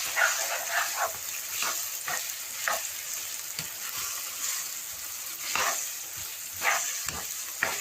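Carrots, sweet corn and other vegetables frying on high flame for chicken macaroni, a continuous close sizzle broken by repeated stirring scrapes.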